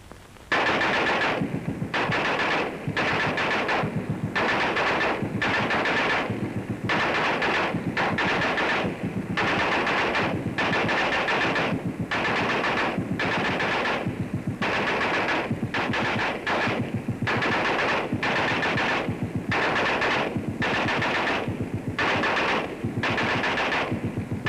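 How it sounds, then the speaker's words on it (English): Two WWII infantry machine guns fire at a position under fire, heard as loud, continuous bursts of rapid shots with short gaps between them and sustained chatter throughout. "Here is the way these two guns sound to the man who is under fire."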